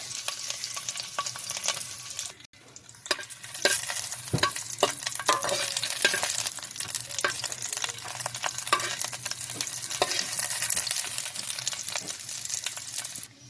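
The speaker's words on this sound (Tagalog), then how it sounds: "So ahos lang sa init ng oil" Garlic frying in hot oil gives a continuous crackling sizzle with scattered pops and a short dip early on, close and fairly loud, with no talking.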